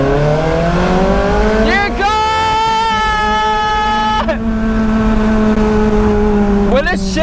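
Ferrari 430 Scuderia with a new aftermarket exhaust, in race mode, revving hard through the gears with rising engine harmonics, a sharp shift break and a climbing wail, loud and close inside the cabin, with a voice briefly over it.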